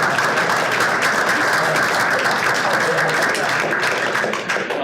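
Audience at a blockchain engineer's ask-me-anything talk applauds steadily for about five seconds, a dense, even clatter of many hands with faint voices mixed in, tapering slightly at the end.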